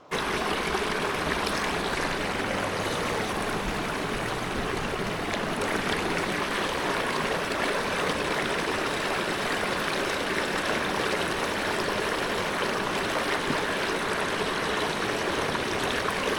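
Mountain stream in the Peak District near Back Tor, flowing steadily with a broad, continuous rushing and trickling wash, close and even throughout with no voices.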